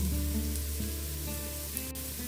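Ground turmeric, chili, coriander and cumin powders sauté in a pan for chicken madhooth, giving a soft, steady sizzle that holds quietly and evenly throughout.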